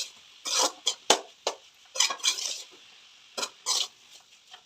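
Fried rice with vegetables is stirred in a pan, producing short scraping and clattering bursts of a spoon against metal in an irregular rhythm, with quiet gaps between strokes.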